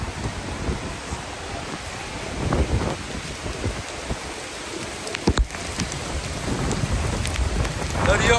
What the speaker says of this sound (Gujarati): જો એકદમ વરસાદ જોરદાર પડે.